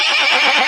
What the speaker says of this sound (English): Sir George pulled the carriage with his horse